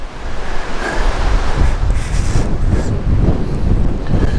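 Strong wind blows outdoors at a campsite beside a canvas bell tent, a loud continuous rushing gust buffeting the microphone throughout.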